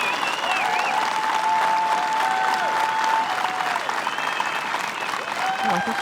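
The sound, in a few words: crowd applauding a putt at a disc golf tournament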